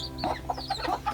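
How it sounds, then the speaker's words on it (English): Local Ghanaian hens clucking close by near their chicks, a quick run of short soft clucks over a low steady background hum, with no talking. "the mommy hens are trying to get close to their babies"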